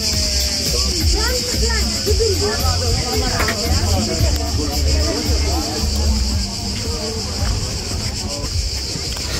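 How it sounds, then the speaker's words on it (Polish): Crickets chirp in a dense, continuous high buzz at Paradise Bay in Chalkidiki, Greece, a coastal spot among rocks, with people's voices and background noise mixing underneath throughout. "Te świerszcze, muzyczka"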